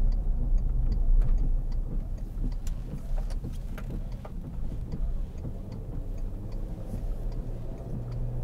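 A 2003 Volkswagen Touareg 3.2 V6 Sport engine hums steadily from inside the cabin while driving at low speed, a low continuous drone with faint ticking above it and no talk.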